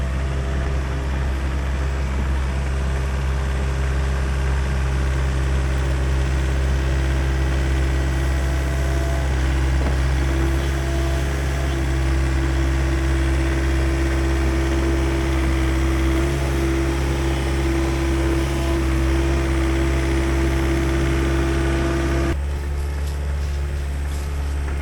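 A mini excavator's small diesel engine idles steadily and loudly nearby, a constant low rumble with a droning hum that shifts slightly near the end.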